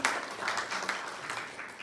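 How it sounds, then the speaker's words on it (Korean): Church congregation applauding a welcomed visitor, a short burst of steady clapping from a roomful of people, fairly close and even throughout. "우리 박수 드리겠습니다."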